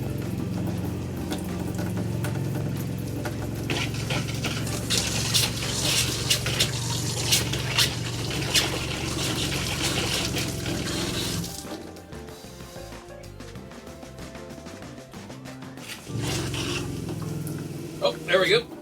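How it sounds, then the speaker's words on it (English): Hot water faucet in a Jayco 267 BHS bunkhouse camper running antifreeze during winterizing, a steady rushing, sputtering flow that cuts out briefly before resuming. "now we're going to open every hot water faucet"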